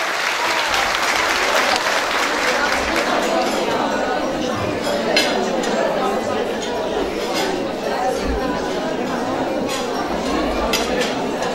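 A crowd at an AK Parti Zeytinburnu campaign breakfast for women applauds mayoral candidate Ömer Arısoy onto the stage, a steady dense roar of clapping with faint clinking dishes and chatter underneath.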